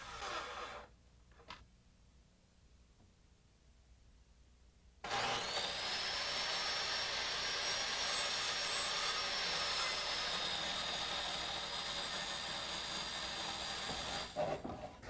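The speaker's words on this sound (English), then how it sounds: "I use a circular saw, cutting just up to the mark from both sides." A circular saw cuts into a wooden deck stair stringer with a sustained loud whine that starts abruptly after a few quiet seconds and handling noises, then runs steadily before winding down.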